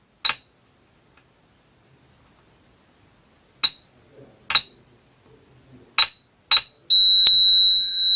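Several short clicks and taps spaced apart in quiet, then a loud continuous electronic beep of a multimeter continuity buzzer, probing a laptop motherboard, starts and holds.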